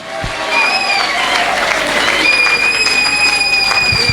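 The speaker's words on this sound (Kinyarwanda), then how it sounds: "Dukomere Imana yacu amashyi menshi cyane" A church congregation at a healing prayer service claps hard and fast, loud dense applause filling the clip after a brief quieter start, with a sustained high tone ringing above and voices mixed in.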